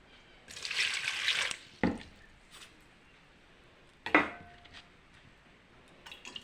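Black jam fruits being washed in a bowl of water, with a burst of splashing and swishing followed by a few scattered knocks and small clinks of the bowl, fairly quiet and close.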